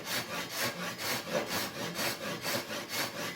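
Japanese-style pull saw cutting through wood with the coarse side of the blade, about a dozen steady, even rasping strokes in a regular back-and-forth rhythm, close and alone.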